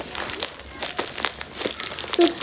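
A shipped box containing a bubble machine is being opened at home, its plastic wrapping crinkling in repeated short rustling bursts, fairly close and moderately loud, with a few soft voices talking in the background.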